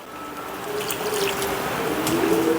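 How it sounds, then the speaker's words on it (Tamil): Water streams steadily into vegetable bonda batter in a mixing bowl, a close, continuous pouring and trickling sound. "தண்ணியை ஊற்றி பிணைஞ்சிக்கலாம்."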